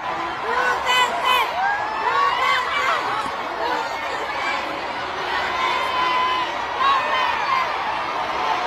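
A large crowd at a campaign rally shouts and chants "Duterte" in a steady, roaring wave of voices, with cheers and whoops rising at moments.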